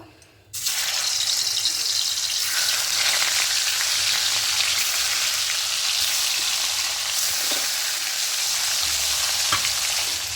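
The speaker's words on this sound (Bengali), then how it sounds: "মাছগুলোকে ভেজে নেব" Pieces of satin fish, washed and rubbed with salt and turmeric, drop into hot oil and burst into a loud, close, continuous sizzle that holds steady to the end, with an occasional faint stir or clink.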